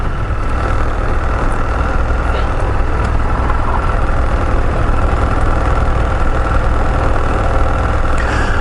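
A Suzuki Burgman 650 scooter engine runs steadily on a ride near Niagara Falls, New York, a loud, constant low drone with wind rumble and no break, close to the microphone; a voice speaks faintly underneath.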